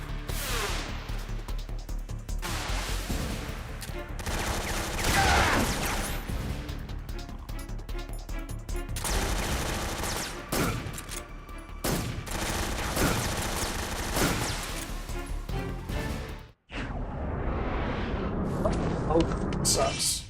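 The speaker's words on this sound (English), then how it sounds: "Tommy gun!" A Tommy gun fires in Metal Gear Solid 3 as a long, dense barrage of loud automatic bursts. The shots run almost without a break across the whole stretch, with one brief dropout near the end.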